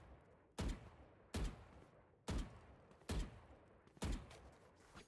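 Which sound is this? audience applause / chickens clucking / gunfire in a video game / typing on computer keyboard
gunfire in a video game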